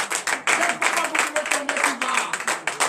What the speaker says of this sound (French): Donnez l'acclamation à Josué.